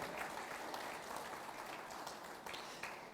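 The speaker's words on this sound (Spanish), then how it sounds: "vamos a darle un aplauso a nuestro Padre" A church congregation applauding their pastor after a prayer during a Spanish-language sermon, heard as a faint, distant, even wash of clapping that holds steady throughout.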